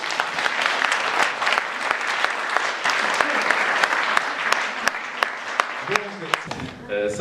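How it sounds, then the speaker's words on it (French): An audience applauds steadily at a French anniversary cinema event, dense continuous clapping with a few sharper claps standing out, easing off toward the end. "je voudrais qu'on l'applaudisse et qu'on les applaudisse"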